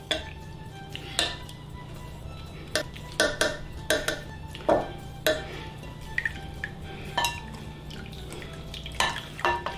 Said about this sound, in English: Now I'm using a strainer and try to get the rest of the liquid out.